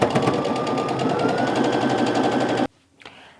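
A sewing machine stitches quilt fabric for strip-pieced half-square triangles in one loud, continuous, close-up run. The motor stops abruptly, followed by a faint clunk.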